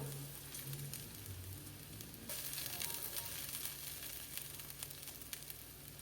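Soaked sabudana and peanut powder being mixed in a pan, a soft steady sizzle with scraping and stirring noises that grow a little busier partway through, with no talking.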